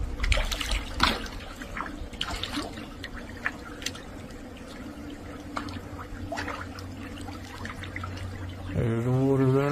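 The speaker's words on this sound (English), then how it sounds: "There's the water running in" Water trickling and pouring steadily into a hole in the ground outdoors, a continuous liquid splash with a low hum underneath and a brief tonal engine-like rise at the end.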